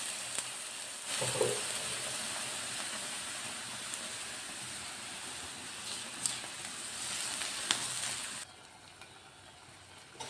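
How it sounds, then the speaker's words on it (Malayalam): Milk poured into roasted vermicelli in a pan gives a steady sizzle and hiss, with a few faint clinks and stirring touches, then quiets toward the end. "നമുക്ക് കുറച്ച് പാലൊഴിച്ചിട്ട് കുറച്ചൊന്ന് വേവിക്കും"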